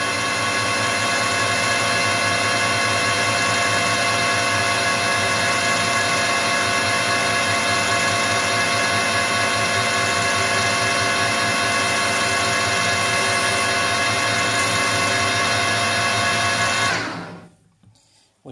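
A loud, steady motorized whir with a harmonic drone runs continuously for a long stretch as a drill bores metal during a mill restoration, then winds down and stops near the end.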